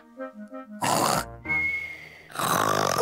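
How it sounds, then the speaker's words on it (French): Uncle Pig, a cartoon pig, snores loudly in a couple of long, rasping, grunting breaths, close up, after a short musical tune. "je ronfle comme ça en général"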